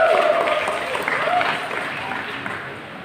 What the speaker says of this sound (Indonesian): Tepuk tangan dong Pak.